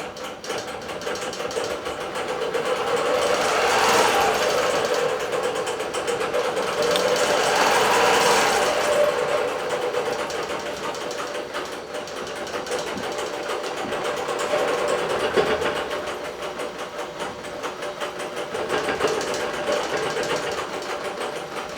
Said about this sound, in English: It's just going to stitch the rest of the way across the row.